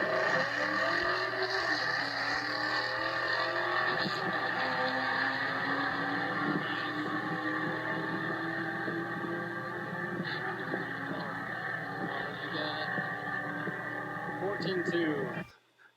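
Engines roar steadily through a Las Vegas drag race between a Ford Mustang GT and a Subaru, a loud continuous drone with rising pitch sweeps, cutting off abruptly at the end.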